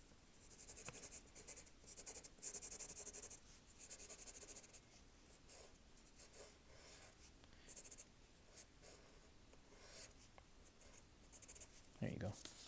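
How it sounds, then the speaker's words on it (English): Pencil writing and drawing on paper, close and soft: continuous scratchy strokes in short irregular bursts, with a brief louder scrape near the end and quiet talk underneath. "I like the sound of pencil and paper"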